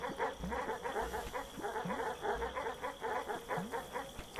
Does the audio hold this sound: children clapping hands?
no